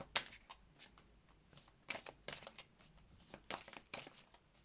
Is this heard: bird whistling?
no